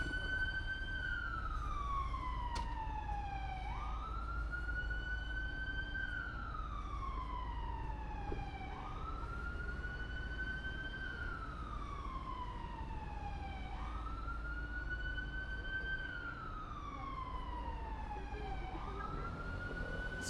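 A wailing emergency siren rises and falls in slow repeated sweeps on a Mexico City street at evening, carried over a steady bed of traffic rumble and city bustle.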